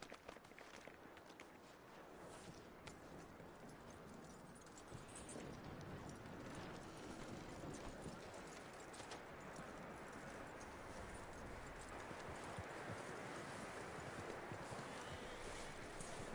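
Horse hooves clip-clop at a steady walking rhythm over a dense, noisy background, continuous throughout.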